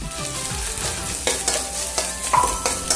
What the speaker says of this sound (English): Once the mustard seeds stop spluttering, add the coconut.